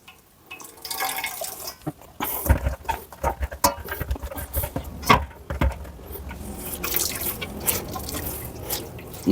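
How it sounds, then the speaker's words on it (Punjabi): Grated radish is squeezed by hand, with water dripping and spattering out in uneven bursts and patters, close and moderately loud, without talk. "ਲੋ ਜੀ ਮੂਲੀਆਂ ਦੇ ਆਪਾਂ ਦਿੱਤੀਆਂ ਨਿਚੋੜ"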